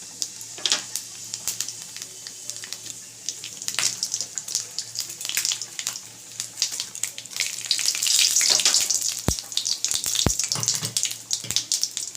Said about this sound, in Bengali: গরম হলেই আমি ফোড়নের মধ্যে দিয়ে দেবো শুকনো লঙ্কা কালো জিরে সাদা জিরে এলাচ লবঙ্গ দারচিনি